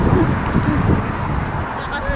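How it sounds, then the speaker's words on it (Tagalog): Strong cold wind buffets the microphone outdoors in Canada in a steady low roar, with a faint voice briefly audible beneath the rumbling gusts. "Lakas ng hangin, ang lamig."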